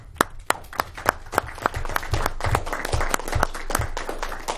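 Applause breaks out at a city council meeting, sharp individual claps at first, then swelling into a steady, dense round of clapping from the room.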